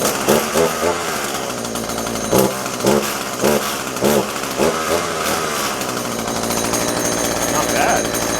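A trash-picked Husqvarna 223L string trimmer runs with the choke off, its small two-stroke engine giving a loud buzzing drone with repeated revving bursts, close to the mic.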